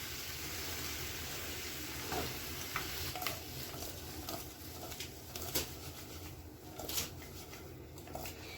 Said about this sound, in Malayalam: ഇനി ഇത് നമ്മൾ തവി വെച്ച് മിക്സ് ചെയ്യരുത്, നമ്മളിത് ഇങ്ങനെ കുടഞ്ഞെടുക്കണം.